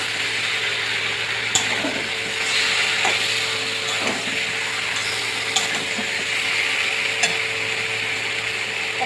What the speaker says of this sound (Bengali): হাঁসের মাংসটা দিয়ে করে খুব ভালোভাবে অনেকক্ষণ ধরে কষাতে হবে